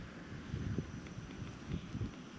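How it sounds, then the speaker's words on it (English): Strong wind buffeting a microphone on a cycling trip in South Australia: a steady low rumble with gusty swells, fairly close, no voices. "The wind is brutal today"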